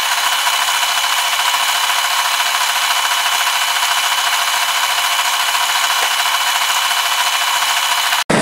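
Power tool trimming the corners off a wooden drive wheel for a belt grinder, a steady, loud cutting whir that runs unbroken for several seconds before stopping abruptly.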